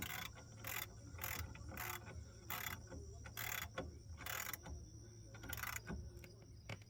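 A ratchet tightens brake caliper bolts on a 1987 Trans Am fitted with LS1 brakes, giving a quiet, steady run of clicking strokes over a low background hum.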